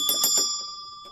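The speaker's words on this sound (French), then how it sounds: "Il y a comme une petite chapelle, avec une petite cloche." A small bell in a little mountain chapel is rung, giving a few quick bright clangs followed by a ringing decay, close and clear outdoors.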